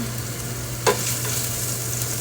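Longganisa sausage browning in a frying pan, a steady low sizzle and fry with one brief clattering stir near the start, no voices.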